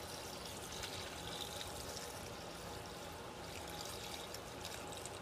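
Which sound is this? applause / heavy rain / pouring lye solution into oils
pouring lye solution into oils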